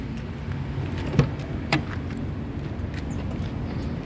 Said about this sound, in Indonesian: Sekarang kita coba buka saja mobil ya. Oke, kita coba buka mobil.